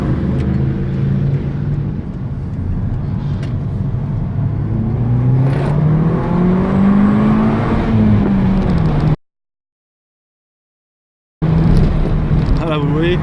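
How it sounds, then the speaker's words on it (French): A Peugeot 207 RC pulls away hard, its engine note climbing steadily in pitch as it accelerates. Someone talks over the engine before the sound cuts out briefly. "petite accélération, les gens se retournent direct"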